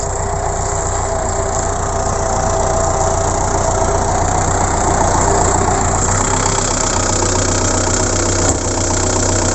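A steady tractor engine rumbles continuously at close range, a low idling drone with a faint knocking texture and no voices.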